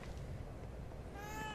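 A cat in The Evil Within 2 video game meows once near the end, a faint, rising-and-falling cry over steady background hiss.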